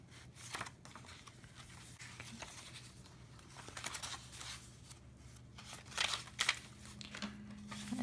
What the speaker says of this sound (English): I'll put this one in the envelope.